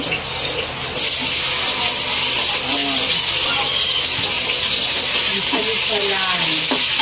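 Ground meat sizzles loudly in a pan, and a continuous hiss of frying is broken by scraping and stirring sounds, with a voice speaking now and then.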